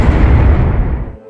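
A single loud, deep explosion sound effect in a Tagalog horror story, a giant centipede's body bursting, with a rumbling body that quickly fades out.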